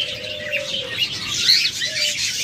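A pair of red-eyed lutino budgerigars chirps in a bird shop. Bright, overlapping tweets and a couple of thin whistled notes sound close and busy over a light background hiss.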